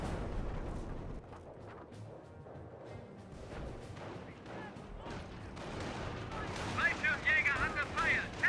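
Battlefield gunfire and artillery from the World War II strategy game Company of Heroes, with steady distant shots and crashing impacts that grow louder and denser toward the end, under intermittent in-game voice callouts.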